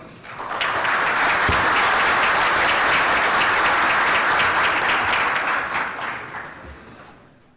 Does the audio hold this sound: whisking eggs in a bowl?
no